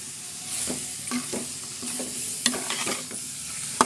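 Fish and onion paste are stirred in a hot pan for a Godavari-style fish curry, giving soft, irregular scraping strokes over a faint sizzle, close and quiet with no talk.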